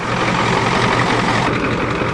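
Close, loud, steady idle of a Ford diesel truck running with its exhaust system and muffler removed, a deep unbroken rumble throughout with no talking.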